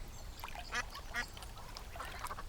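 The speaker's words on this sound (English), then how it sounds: "The ducks were swimming happily." Several ducks quack repeatedly in a Thomas & Friends cartoon, a steady chatter of overlapping calls at moderate distance over a soft background.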